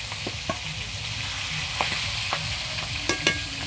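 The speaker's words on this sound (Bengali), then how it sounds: "মাছগুলো এইভাবে ছেড়ে দিতে হবে, কড়াইতে দিয়ে ভেজে নিতে হবে।" Bhetki fish pieces fry in hot oil in a kadai, producing a close, steady sizzle punctuated by sharp spatula clinks and scrapes every second or so, with no voice.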